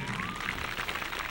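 A crowd at a stunt-driving show claps and applauds in a dense, continuous burst, the clapping spread out across a large audience.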